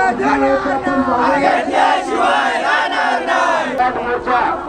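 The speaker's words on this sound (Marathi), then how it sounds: "हळूहळू मोर्चाला गर्दी जमू राहिली" A large crowd of Adivasi marchers chants slogans in unison at a PESA recruitment protest march in Nashik, loud, rhythmic shouted phrases rising and falling with overlapping voices.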